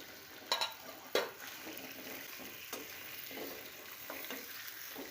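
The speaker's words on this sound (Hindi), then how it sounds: "टमाटर के साथ आलू को फ्राई करें।" Sliced potatoes frying with tomatoes in a pan, giving a steady soft sizzle with a few stirring clatters near the start, quiet and close, with no talking.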